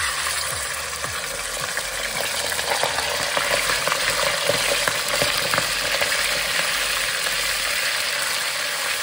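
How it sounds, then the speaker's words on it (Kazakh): Meat frying in hot oil for a Kazakh zharkoe, a steady loud sizzle and crackle holding evenly throughout with no talk. "Етімізді саламыз. Кішкене майды қыздырамыз."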